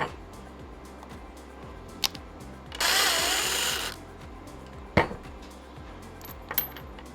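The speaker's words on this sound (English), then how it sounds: "The first thing that we're going to do is remove these 2 screws to remove our stock felling dog, and they are T27." T27 screws come out of a Stihl chainsaw's felling dog: a short, bright whir from a powered driver, then sharp metallic clinks and taps from the screws and parts, close by in a quiet room.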